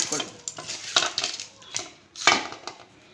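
Rice mixed by hand in a bowl with ginger garlic paste, turmeric and salt for chicken biryani: close, repeated squishing and scraping strokes in an uneven rhythm, loud and with no talking.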